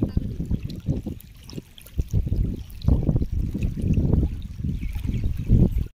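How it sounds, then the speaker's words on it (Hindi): Floodwater of the swollen Son river rushes past with strong force, a continuous churning roar with low gurgling surges, close by and fairly loud, with no talk over it. "देख सकते हैं दोस्तों कितना जोर से धार मार रहा है। देख सकते हैं पानी बहुत हलफल कर रहा है।"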